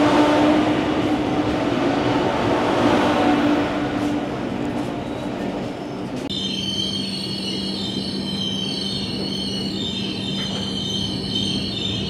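Deccan Queen Express train running with steady loud rumble and rail noise, then a sharp shift midway as locomotives pass alongside on the adjacent track, adding a high metallic whine and hum.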